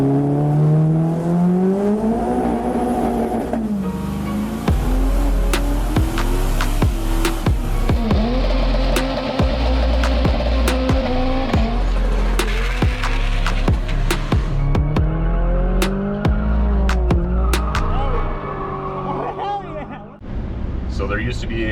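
A turbocharged LS-powered Chevrolet Camaro driving on the road, its engine drone rising and falling steadily throughout, heard from inside the car under continuous talking.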